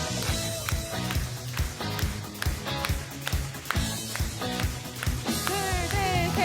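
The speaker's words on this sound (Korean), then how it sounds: "박수 치면서" Church congregation at a Sunday worship service clapping and stomping their feet through a lively final song, rhythmic claps and thuds blending with loud band music and singing voices throughout.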